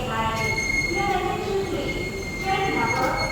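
A train rumbles loudly along the rails, with steady clatter and metallic wheel squeal throughout, recorded close from on board.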